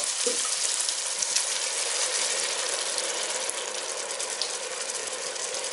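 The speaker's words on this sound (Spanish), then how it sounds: "subimos un poco el fuego y echamos un buen chorro de vino tinto" Chicken pieces frying in a hot pan as a generous splash of red wine goes in, giving a loud, dense, continuous sizzle that holds evenly throughout with no voices.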